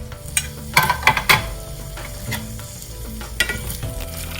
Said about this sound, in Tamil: இதே இதில் நம்ம வெங்காயம் போட்டு வதக்கிடலாம்.